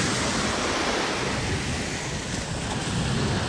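Steady, broad roar of Baltic Sea waves on the Kaliningrad coast, mixed with wind buffeting the microphone, loud and continuous with no voices.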